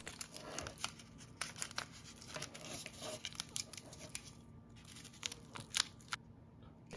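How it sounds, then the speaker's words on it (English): Soft crinkling and rustling of tin foil being wrapped with tape onto the end of a coax cable for a homemade HDTV antenna, faint, close and irregular with small crackles and tape tearing sounds throughout. "The final step here is simply to grab your longer piece of tape and secure the tin foil to the"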